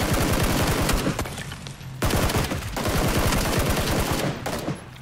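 Rapid automatic gunfire in a fog-covered video game, loud and close, with dense bursts of shots rattling almost without a break and only short pauses between volleys.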